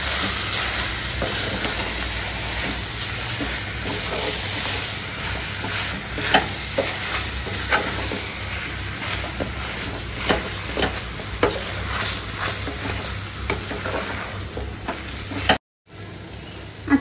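Mashed potatoes being stirred into sizzling masala in a pan for a masala dosa filling, a steady frying hiss with repeated soft scraping strokes, close and continuous, a brief gap near the end.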